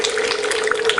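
Water splashes and trickles onto a large lump of clay on a pottery wheel in a close, continuous wet sloshing over a steady hum.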